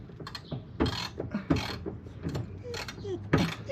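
A hand ratchet turns a 13 mm socket on a hood bolt of an Alfa Romeo 4C, giving repeated short clicking bursts up close with brief pauses between strokes, and faint voices in the background.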